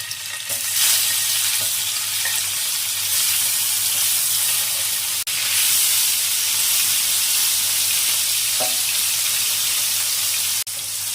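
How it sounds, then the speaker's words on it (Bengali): Paneer pieces fry in hot oil in a kadai with a loud, constant close sizzle and hiss. Occasional stirring knocks and a couple of sharp clicks break the noise, and no one speaks. "তেলটা গরম হয়ে গেছে, এবার পনিরগুলো দিয়ে দিচ্ছি"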